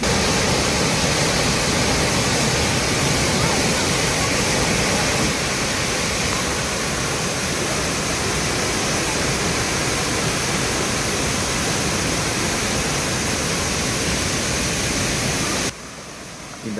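Lakkam waterfall in Munnar pours in a dense, steady roar of falling water, loud and continuous, then cuts off abruptly near the end.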